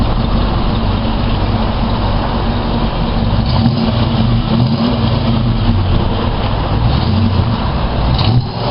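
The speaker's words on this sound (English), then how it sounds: "Can you give it some gas? Give it some gas." A 1972 Ford Ranchero GT with a 351 Cobra Jet V8 and four-speed rumbles loudly up close, its engine revved in a few swells over a steady rough idle during an inspection, with no talking.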